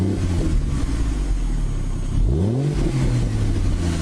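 A Ford Barra six-cylinder engine, heavily muffled, revving hard with a deep steady drone and a quick rise and fall in pitch midway, loud and continuous with no voices.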